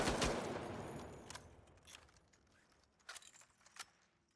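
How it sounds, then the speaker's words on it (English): Reload of the M60 machine gun in the video game The Finals, faint metallic clicks and clacks of magazine and bolt handling after an opening burst, several sharp mechanical snaps near the end. "So that was the M60's reload."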